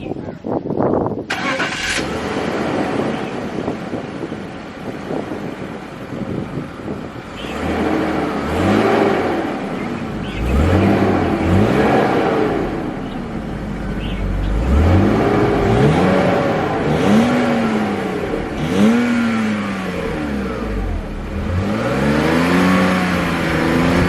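A 1999 BMW E39 520i starts with a brief cranking burst and catches, then settles into an idle that swells and dips several times with a few revs. The engine is close by and runs mostly alone, with faint background noise.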